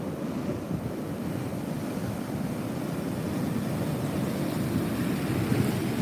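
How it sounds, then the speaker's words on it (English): Ocean surf rolls and breaks steadily on a coastal beach where young surfers ride fat waves, a continuous loud wash of churning water with wind buffeting the microphone. "These waves are looking a bit fat here"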